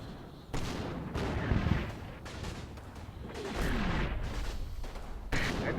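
Artillery fire for effect in a World War II video game battle around Aachen, a dense rumbling barrage of overlapping booms and blasts that swells and recedes across the clip, heard alone without speech.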